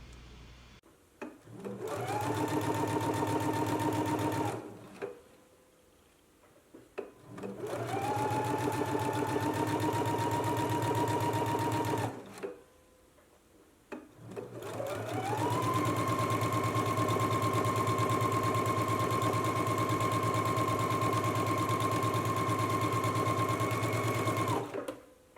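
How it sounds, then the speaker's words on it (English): A sewing machine runs in three long stretches, stitching a narrow hem on a skirt. Its steady motor whir is loud and close, with short pauses between the runs. "you can go ahead and stitch them in place, and you're going to be stitching close to that inner fold"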